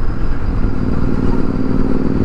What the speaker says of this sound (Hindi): एग्जॉस्ट लगा रखे हैं अपना सुपर मीटियोर 650 में। काफ़ी लाउड आवाज़ आ रही है इसकी